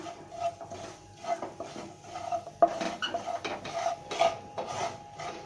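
A utensil scrapes and stirs briskly in a pan of spices frying in hot oil for raw mango garlic pickle, with a soft sizzle underneath and a few light metallic clinks.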